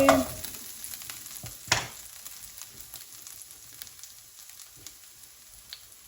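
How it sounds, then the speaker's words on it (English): Spring onions and garlic sizzle in a hot pan as a wooden spoon stirs them, with one sharper scrape near the start. A steady frying hiss runs underneath throughout, close and moderately loud, with no talking. "Next I need my wooden spoon. Give it a little mix."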